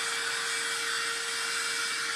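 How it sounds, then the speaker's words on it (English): An ordinary handheld blow dryer blows warm air over paper craft cutouts. It makes a continuous, loud, even whir with a steady motor whine and no voices. "Now, I'm using this regular blow dryer"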